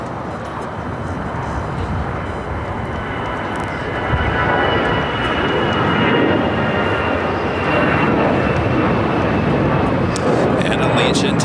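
An Allegiant Air Airbus A319 takes off at LAX, its jet engines a loud sustained roar that builds and holds throughout.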